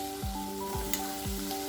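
A medium-sized tomato goes into hot oil with chili powder for dal fry, giving a soft, steady sizzle with light stirring, faint and close, with no talking.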